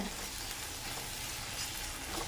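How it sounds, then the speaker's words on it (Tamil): Onions sautéing in a pan for a bindi (okra) curry masala, a continuous soft frying sizzle with faint stirring, steady and fairly quiet, no voices. "நல்லா வதங்கட்டும்"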